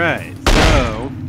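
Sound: machine gun fire in The X-Files video game

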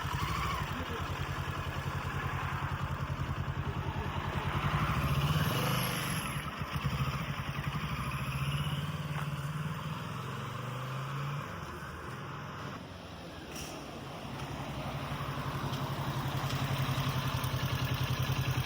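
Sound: 650cc motorcycle running

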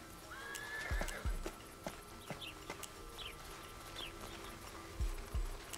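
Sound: horse neighing and hooves in the video game Desperados 3

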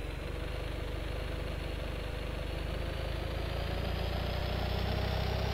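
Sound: Fiat 126p engine running in Car Mechanic Simulator 2015 video game

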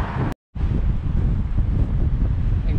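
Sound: strong wind on the coast

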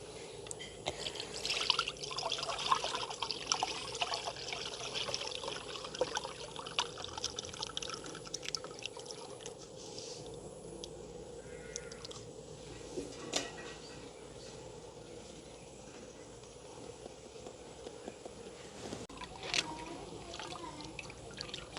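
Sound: liquid strained through a fine-mesh sieve

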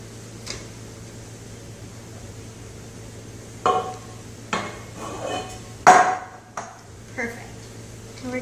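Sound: lightly tapping the bottom of a cake pan

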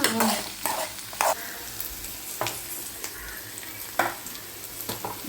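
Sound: vegetables being stir-fried in a pan

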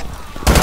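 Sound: explosion in the video game Brink

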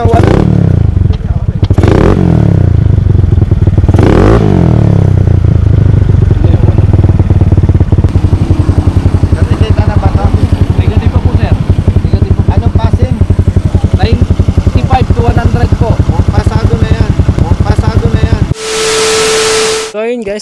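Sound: motorcycle engine revving without muffler

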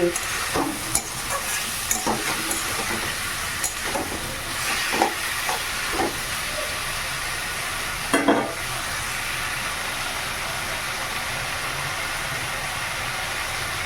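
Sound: cumin, chili and turmeric sizzling in hot oil

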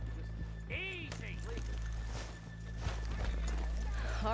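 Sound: horses walking, from the video game Red Dead Redemption 2

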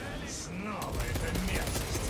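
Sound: machine gun firing in Warhammer 40,000: Space Marine 2 video game

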